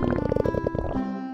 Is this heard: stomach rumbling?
yes